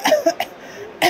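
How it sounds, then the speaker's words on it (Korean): A couple of short, sharp coughs recorded up close into a cough-analysis app at a medical expo, then a brief pause and one more cough at the end. "기침음을 녹음을 하면 됩니다."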